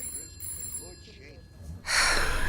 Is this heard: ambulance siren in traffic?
no